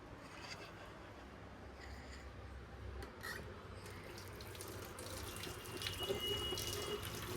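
A cucumber is washed under running kitchen tap water, a steady hiss and splash of the stream that swells a little toward the end, close by with no talking.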